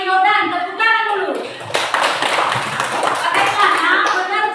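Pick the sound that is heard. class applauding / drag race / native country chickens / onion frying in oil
class applauding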